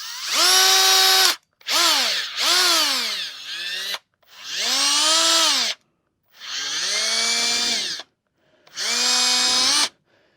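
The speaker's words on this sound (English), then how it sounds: "now I need to drill the 16 holes" A power drill boring a series of holes through plastic during an equalizer repair, whining in separate bursts of rising and falling pitch with short silent gaps between them, close and loud.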